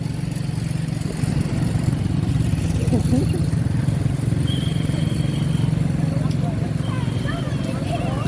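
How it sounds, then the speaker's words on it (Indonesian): A motorcycle engine hums steadily as it rides along, with voices faintly in the background. "Mama Dede itu naik motor habis pengajian."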